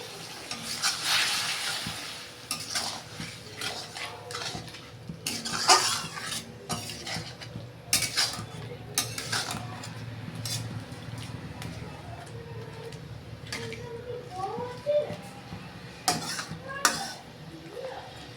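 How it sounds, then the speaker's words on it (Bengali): Fried prawns are stirred into a masala in a pan, with metal spoon clinks and scrapes against the pan over a low simmering sizzle, uneven bursts of clatter close by. "এই দেখো চিংড়ি মাছগুলো আমি দিয়ে দিলাম, ভেজে রাখা চিংড়ি মাছগুলো।"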